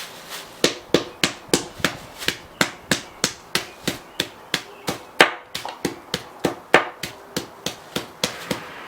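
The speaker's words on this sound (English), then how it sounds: "I have a hammer." A hammer strikes repeatedly in a steady rhythm, over two dozen sharp thuds crushing sidewalk chalk inside a plastic bag, close and loud.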